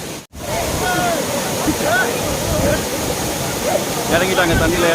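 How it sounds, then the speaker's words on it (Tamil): A waterfall on a trip to Kanthaloor roars loudly and steadily close by, with people's voices talking over the rushing water. "இவ்வளோ அழகான ஒரு பியூட்டிஃபுல் ஃபால்ஸ்."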